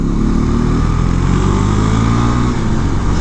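A Husqvarna Svartpilen 401 motorcycle is ridden hard through corners, with a loud, steady engine drone and continuous wind rush filling the whole stretch, no voices over it.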